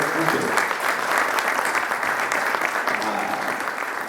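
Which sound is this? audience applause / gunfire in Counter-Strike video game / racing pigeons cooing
audience applause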